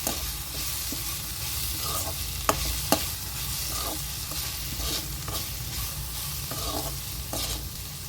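Leftover chapati being stir-fried as kothu parotta in a pan with tomato and spices, a steady sizzle broken by occasional sharp clinks and scrapes of the spatula against the pan.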